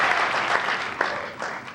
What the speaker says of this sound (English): if you get that applause just from walking to there to here